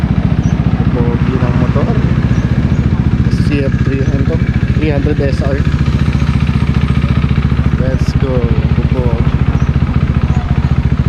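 Several sport motorcycles idle nearby, including a Kawasaki ZX14R and a ZX4RR, with a steady low engine drone running throughout while people talk over it.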